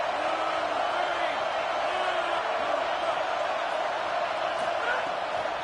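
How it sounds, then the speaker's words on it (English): Stadium crowd at a football game roaring for the defense on third down, a dense, loud and continuous wash of cheering with a broadcast commentator talking over it. "Decibels rising as the crowd gets behind this defense on third down."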